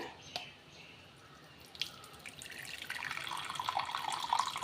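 Coconut milk strained through a filter and poured for a ragi halwa, starting as soft scattered drips and building into a steadier, louder liquid stream toward the end, close and without talk.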